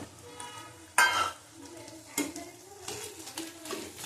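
Boiled potato being mashed and stirred into cooked peas in a pan for ghugni, two or three close scraping, squelching strokes with a faint sizzle between them and no talking.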